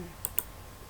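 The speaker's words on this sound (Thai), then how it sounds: "คลิกปุ่ม workflow ด้านบน" A computer mouse clicking a button in accounting software: two quick, crisp clicks close together, near and clear against a quiet background.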